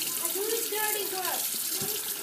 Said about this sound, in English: Look what happens when you squirt the water in its mouth.